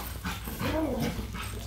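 Dogs growl and grumble at each other at close range, a short throaty rumble with a rising whine in it.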